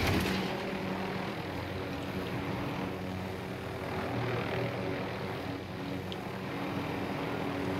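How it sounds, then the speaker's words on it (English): An enemy helicopter in the Warzone video game drones steadily with a broad, continuous rotor and engine roar, sustained at an even, moderately loud level throughout without pauses. "Another enemy helicopter."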